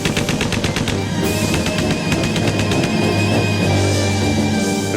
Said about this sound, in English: And out of that came a burst of machine gun fire.